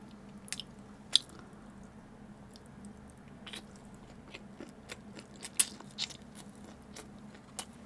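Shrimp sushi being eaten up close: soft, faint chewing and squishy bites with a few sharp clicks over a low steady background hum.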